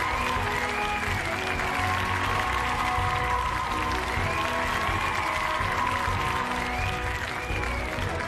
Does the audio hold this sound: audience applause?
yes